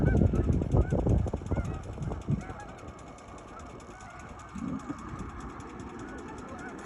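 Roadside birds honk loudly like geese, their calls overlapping near the road, with a motorcycle engine idling in the background, and the honking thins out after a few seconds.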